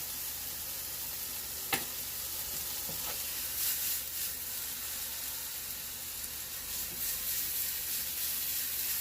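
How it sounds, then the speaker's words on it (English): Oil and herbs in a pan for tomato sauce give a steady, close sizzle and frying hiss throughout, with a few faint clinks of stirring and no talk. "I'm going to put down just a little oil in this pan so things don't get too dry."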